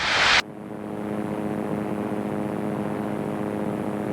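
Naval Aircraft Factory N3N biplane in flight, slowing to around 80 mph while climbing and turning: a steady, close radial engine and propeller drone with a brief rushing burst at the very start, no talk.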